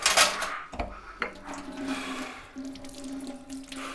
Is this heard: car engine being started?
no